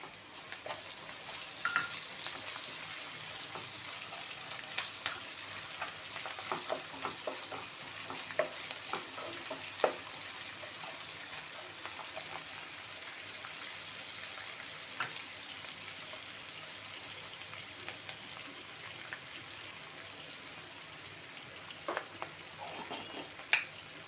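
Brinjal (vankaya) masala curry frying and being stirred in a pan, a steady soft sizzle with scattered scraping clicks of the spoon throughout, no talking.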